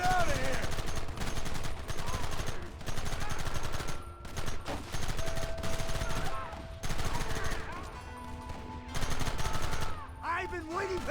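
Gunfire in the video game Red Dead Redemption, with loud, rapid shots and fusillades repeating in dense bursts with brief pauses, some whizzing ricochets, and voices shouting over the shooting.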